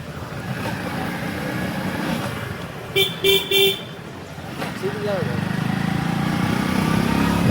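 A car horn gives three short honks partway through, over steady traffic and engine noise outdoors on a road in Rajkot, Gujarat.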